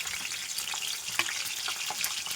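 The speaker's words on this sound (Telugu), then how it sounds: "ఇవన్నీ ఇందులో వేసి ఇప్పుడు లాస్ట్లో తాలింపు పెడుతున్నాం." Close, loud sputtering of mustard seeds, garlic cloves, dried chillies and curry leaves frying in hot oil, a continuous crackle with sharp pops scattered through it and no voices.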